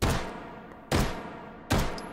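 Three loud single shots from a Luger 1902 carbine firing 9x19 Parabellum in the H3VR virtual reality game, evenly spaced about a second apart, each with a sharp crack and a decaying tail, no talk.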